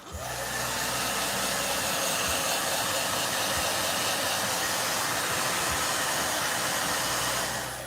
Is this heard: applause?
no